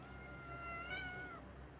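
A cat gives one drawn-out, whiny meow while being picked up, close but quiet, rising and then trailing off against a low, hushed room background.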